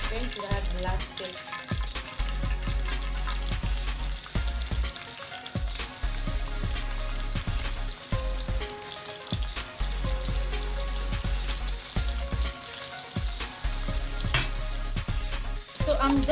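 Chicken frying in oil in a pan for Nigerian fried rice, giving a loud continuous sizzle with rhythmic stirring and knocking of utensils against the pan throughout.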